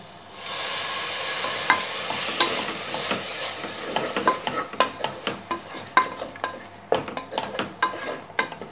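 Mushroom masala frying in a pan as water is sprinkled in, a loud hiss and sizzle at first, then easing while a spoon scrapes and stirs in repeated sharp clanks and scrapes.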